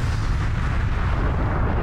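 Explosion of a critical reactor in the video game Aliens: Colonial Marines, a loud low rumbling blast that rolls on steadily for about two seconds, with no voices over it.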